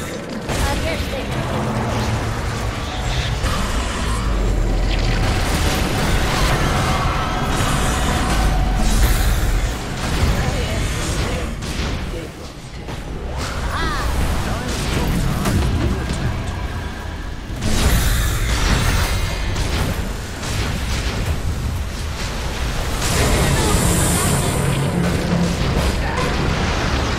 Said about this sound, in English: Radiant's bottom tower is being destroyed.